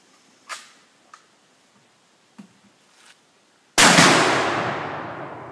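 Distant crack of a Remington 710 rifle followed by a loud, broad blast as an exploding target detonates at the base of a tree, its roar decaying over a couple of seconds after a few faint earlier pops.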